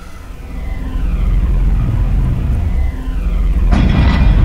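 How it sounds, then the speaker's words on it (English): A meteor storm in the video game Warblade rumbles loud and low as a swelling roar, with a sharper burst of noise near the end and no speech. "Meteor storm."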